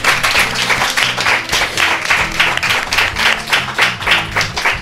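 A small group in a podcast recording session claps for the composer, a close, rhythmic run of hand claps in a steady pulse over low sustained tones.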